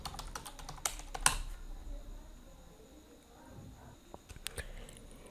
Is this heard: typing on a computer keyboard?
yes